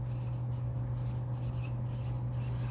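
Pen or marker strokes writing anabolic pathway notes during a biology lesson, faint and continuous over a steady electrical hum, with no speech.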